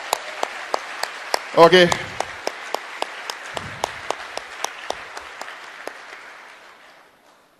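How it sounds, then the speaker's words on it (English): An audience at the All India Anglo-Indian Association applauds a politician in steady, rhythmic clapping that slowly fades out. A brief spoken word comes early on. "Don't ever clap for a politician when he makes a promise"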